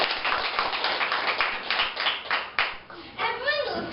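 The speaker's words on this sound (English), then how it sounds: "A round of applause, please." Audience applause opens a school class debate, brisk dense clapping from a group heard close for a few seconds before it thins out and a voice begins speaking.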